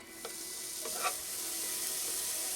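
Steady hiss of a grilled cheese and roast beef sandwich sizzling in a hot pan, continuous and close, with a couple of faint clicks and no talking.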